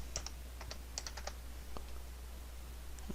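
Computer keyboard typing, a few short bursts of light, close key clicks with gaps between them while a search term is entered, no talking.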